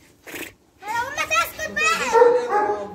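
A dog gives a short, sharp bark on a farm, followed by people talking nearby.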